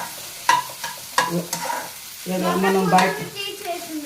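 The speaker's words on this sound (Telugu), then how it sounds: "ఇదిగోండి ఎగ్ బాగా పచ్చివాసన పోయే వరకు ఇలా వేసుకోవాలి." Eggs frying in a pan for egg fried rice, with sharp clicks of a spatula stirring and scraping, then a fuller, rising sizzle. A single spoken word is heard briefly.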